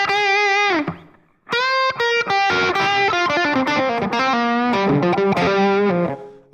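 Electric guitar notes and chords through an ambient reverb setting ring out with a wide, washy reverb tail, a brief pause, then a busier run of picked notes blending into the ambience.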